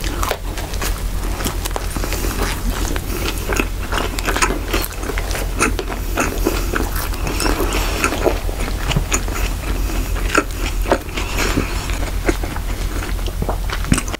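Close-up biting and chewing of a McDonald's Chicken Tatsuta burger, crisp bites and moist mastication repeating throughout, loud and intimate, with no talking.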